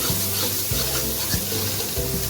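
Spices with salt and turmeric roasting in a hot pan, giving a steady close sizzle with faint scraping from stirring throughout.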